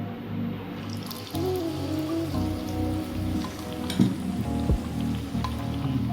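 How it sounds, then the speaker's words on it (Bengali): Ladlefuls of chhana malpoa batter sizzling in hot oil in a home kitchen, a steady crackling fry that sounds like rain on a surface, with some scrapes and clinks of the ladle. "আমার তেল গরম হয়ে গেছে, আমি তেলের মিশ্রণ থেকে এক হাতা করে এই তেলের মধ্যে দিয়ে দিই"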